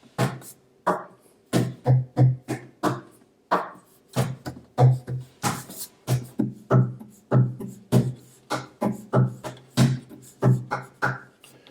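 Rhythmic percussive slaps and taps on an acoustic guitar body, sharp hits mixed with deeper thumps in a quick groove, close and dry.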